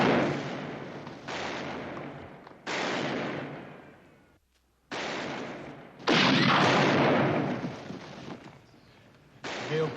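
Gunfire rings out in a Western shootout: about six loud, echoing bursts of shots with long fading tails, separated by brief gaps.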